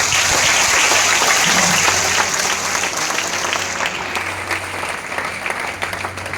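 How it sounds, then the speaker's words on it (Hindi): Loud, dense clapping from a gathered crowd for a man selected into the Haryana Police, a steady wash of hands that holds strong throughout and tapers only slightly near the end. "जोरदार ताली बजाओ।"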